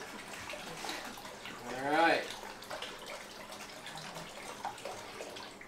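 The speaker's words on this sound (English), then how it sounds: "Can I have some help refilling this bottle with water, please?" Water running from a tap into a bottle while mixing wine slushies, a short gurgling fill rising in pitch for about a second amid low background noise, with a brief spoken remark.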